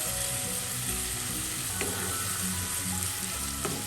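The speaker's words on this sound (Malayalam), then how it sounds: "എല്ലാം കൂടെ മിക്സ് ചെയ്ത് ലോ ഫ്ലെയിമിലൊന്ന് വഴറ്റാം" Onions and turmeric fry on a low flame for a goat liver pepper dish, giving a dense, steady sizzle close by with soft stirring scrapes throughout.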